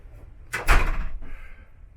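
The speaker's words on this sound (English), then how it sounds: "Let's open the door." A door aboard the P&O Ventura cruise ship swings open with a brief loud clunk and rush of sound, followed by a softer hum of the space beyond.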